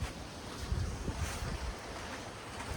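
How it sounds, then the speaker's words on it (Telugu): Wind blows steadily outdoors ahead of a storm, a broad whooshing rush with low rumbling gusts buffeting the microphone. "ఇవాళ దుమారం వస్తుంది, గాలి వస్తుంది"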